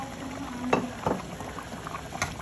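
Goat intestine curry with yogurt boils and bubbles in a pan over high heat, a close, faint simmering with scattered pops and sputters, no talking.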